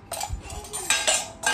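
Metal kitchen pots and utensils clink and clatter as a child plays with them at home at night, several irregular close knocks and scrapes with no talk.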